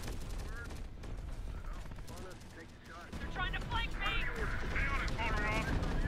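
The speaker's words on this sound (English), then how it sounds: "We got sniper teams going off." Sniper teams fire in the combat game Terminator: Dark Fate - Defiance, a burst of rapid gunshots and heavier blasts that gets louder and denser partway through, with voices underneath.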